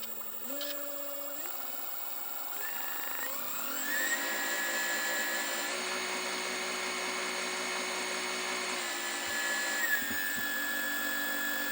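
A homemade brushless DC motor built from a car alternator, whining steadily as it spins up in stepped rises of pitch and then holds a loud, even drone before a brief dip near the end.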